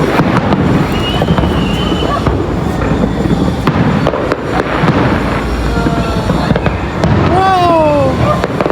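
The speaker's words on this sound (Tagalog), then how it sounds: "Fireworks!" Fireworks crackle and boom continuously at a distance amid a noisy crowd, with people shouting and chattering throughout and whistling rockets rising near the end.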